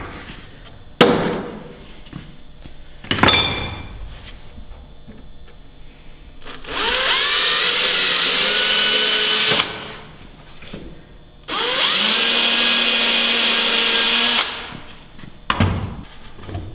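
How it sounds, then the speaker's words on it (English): A power drill bores all the way through a SnowWalker toboggan in two sustained, loud bursts of a few seconds each, with scattered clicks and knocks of handling between and around them. "Drilling all the way through."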